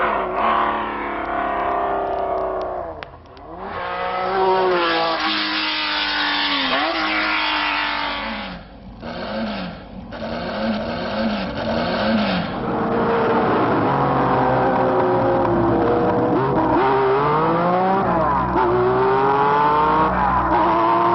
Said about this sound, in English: when the 906 with this fascinating six-cylinder sound came in